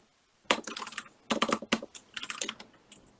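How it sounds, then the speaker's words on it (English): Close, fast typing of code on a computer keyboard comes in quick clattering bursts with short pauses between them, and no speech over it. "I'm actually typing it out because you know, this is what you have to do in an actual IDE"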